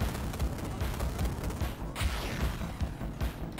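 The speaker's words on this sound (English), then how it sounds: "Move and shoot." Rapid bursts of gunfire from shooting in It Takes Two, loud and dense, with repeated sharp impacts and crashing hits packed closely over several seconds, no voices.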